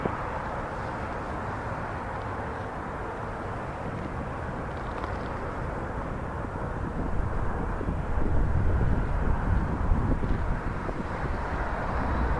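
Air Canada Airbus A330 taking off at Toronto Pearson airport, a sustained broad engine roar heard from a distance that swells louder toward the end, with no talking.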